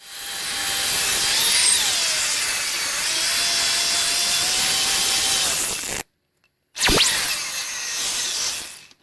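A car headlight lens is machine-polished in side-to-side passes, making a steady, loud, close whirring hiss with a shifting tone. It cuts out briefly near the end, then starts up again.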